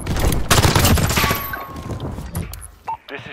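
Dense rapid gunfire from Modern Warfare multiplayer, a loud close fusillade of overlapping shots that thins into scattered bursts and a few isolated bangs toward the end.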